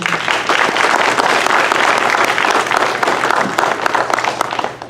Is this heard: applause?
yes